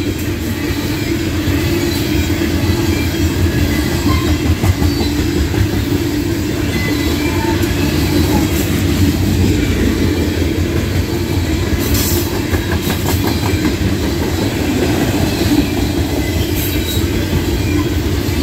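Norfolk Southern freight train 594 led by locomotive 7532 rolls through Karns, Pennsylvania, with a steady loud rumble of passing cars, rhythmic wheel clatter and occasional squeals, continuous and close throughout.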